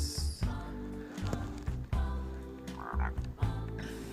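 A frog croaks repeatedly in quick, bubbly bursts over a steady tonal musical background, fairly close and clear, in the video game Rain on Your Parade.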